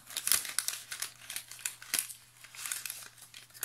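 Paper die cuts rustle and crinkle as they are handled and pulled from an envelope with a hook-and-loop closure, a string of close, soft crackling bursts with no talking.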